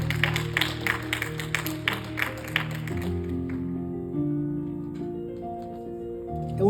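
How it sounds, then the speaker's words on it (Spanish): A church congregation claps loudly for a few seconds before the applause fades into sustained keyboard or organ chords that carry on alone. "Ese aplauso fuerte al Señor."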